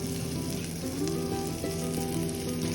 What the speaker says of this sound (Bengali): ভাজতে হবে ভেজে তুলে নেবো দেখো কাবাব অলমোস্ট রেডি